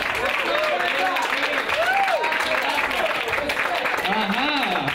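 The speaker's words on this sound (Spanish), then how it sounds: "¡Un aplauso para las personas!" A comedy club audience at a Spanish-language stand-up show applauds steadily, with dense clapping running throughout while voices and cheering rise over it.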